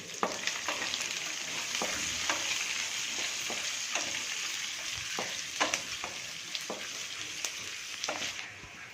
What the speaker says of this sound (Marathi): इथे मी एक मीडियम साईजचा कांदा घेतलेला आहे आणि हे आता आपण छान परतून घ्यायचे